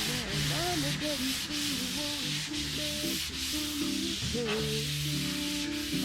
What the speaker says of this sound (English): I decided to go ahead and sand the whole body before I do the edges.